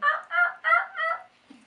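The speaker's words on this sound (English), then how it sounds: "You give them that cluck, they start gobbling." A wild turkey gobbles in four rapid, rolling bursts, answering a hunter's cluck call outdoors; loud and fairly close, with no talking over it.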